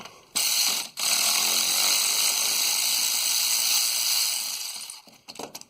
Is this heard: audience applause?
no